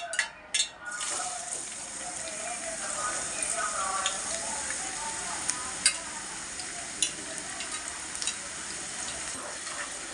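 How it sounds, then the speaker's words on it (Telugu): Onions sizzle steadily in hot oil for a boti gongura curry, a continuous bright frying hiss with a few clicks and stirring knocks at the start and scattered pops throughout, close and fairly loud with no talking. "మంచి ఉల్లిపాయలు వేద్దాం"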